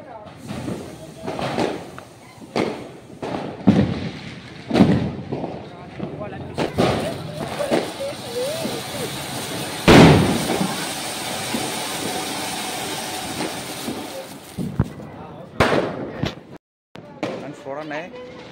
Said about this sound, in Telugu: చూసారా పెద్ద పెద్ద బాంబులు వేస్తున్నారు ఇలా